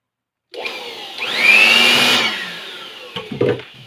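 A repaired blower machine spins up and runs with a loud rising whine and rushing air, then winds down into some clattering handling noise near the end.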